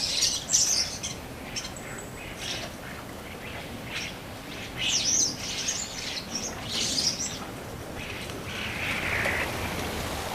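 A flock of birds bursts into the air near a boat, a busy layer of chirps and quacking calls over steady noise that rises and falls, with no talk.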